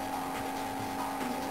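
Air-cooled Porsche engine in the Game Boy Advance racer Need for Speed: Porsche Unleashed, a steady, buzzy synthesized drone holding a constant pitch with slight wavering, loud and continuous with no talk over it.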